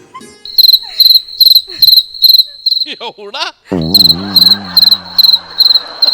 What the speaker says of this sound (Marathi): तुला रातकिड्याचा आवाज आला.